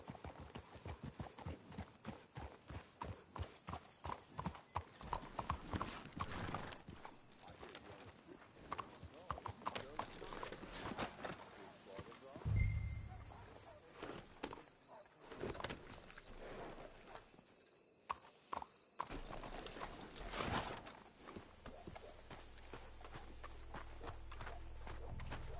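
Horse hooves clip-clop in Red Dead Redemption 2, a rapid rhythmic trot that slows to scattered steps, with a snort or whinny midway and game ambience, close and fairly loud.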